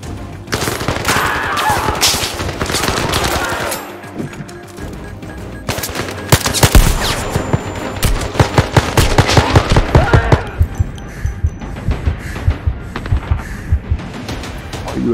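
Gunfire in Black Ops virtual reality game: loud bursts of rapid automatic fire and single shots, close, in clustered volleys with brief pauses, and a voice speaking between them.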